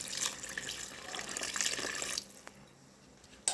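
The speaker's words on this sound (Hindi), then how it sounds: "अब हम इसमें डाल देंगे पानी" Water is poured into a pot of chicken feet masala as a steady, splashing rush lasting about two seconds, then stopping abruptly, leaving faint drips and clinks.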